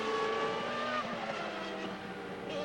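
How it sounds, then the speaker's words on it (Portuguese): Ferrari V12 Formula 1 car with a failing, smoking engine at the 1995 Japanese Grand Prix, a high whining engine tone that wavers and drops in pitch as it runs on, heard at a distance with no talking. "Parece que foi embora o motor do Alesi"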